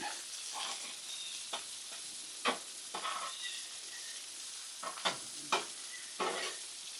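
Hot honey sauce sizzles on a hot griddle, a soft steady crackle with faint scraping stirs and occasional sharper pops, fairly quiet and heard alone.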